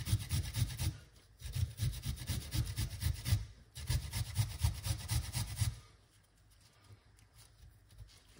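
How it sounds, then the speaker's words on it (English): Turmeric root is rubbed hard against a grater in three long runs of quick, rhythmic rasping strokes, close and fairly loud, with a short pause between runs and quiet at the end. "And you must grate the turmeric like this."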